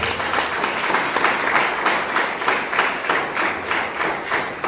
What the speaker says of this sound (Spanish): Dale las palmas al Señor Dios.